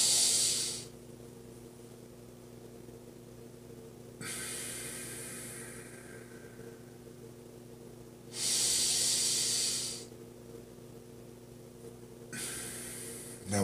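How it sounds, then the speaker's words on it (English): Slow rhythmic breathing exercise, long hissing breaths alternating with quieter gaps, close and steady, with about four drawn-out breath cycles and no talk. "But let's talk about the rhythmic breath."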